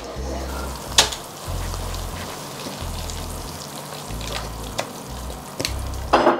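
Thick milk toffee cooking in a pan, a steady bubbling sizzle with soft scraping as a spoon stirs, plus a few sharper clinks.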